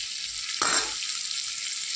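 Food frying in a small amount of reused hilsa fish oil: a steady hiss of frying, with a sudden louder burst of sizzle as something hits the pan, then a sustained bright crackle with no talking.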